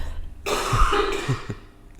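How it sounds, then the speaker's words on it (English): One short, rough cough close to the listener that sounds partly like clearing the throat, followed by quiet. "I need to cough again."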